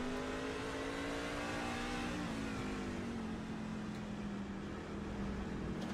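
Race trucks in a racing video game wind through a turn at Monza with a steady engine drone whose pitch slowly dips as they downshift, heard as one continuous hum.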